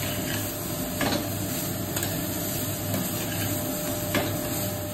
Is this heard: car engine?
no